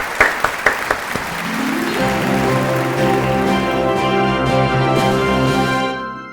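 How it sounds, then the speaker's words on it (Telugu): Children at a kids' quiz show break into applause for a contestant who answered correctly. A few separate claps come first, then steady group clapping fills the room and trails off at the end. "Claps for Aditi."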